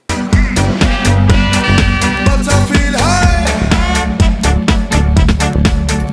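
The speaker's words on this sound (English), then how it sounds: "some music that has vocals in it" Loud, dense music with a driving beat, bass and layered melodic parts, including gliding tones that suggest a singing voice, playing continuously throughout.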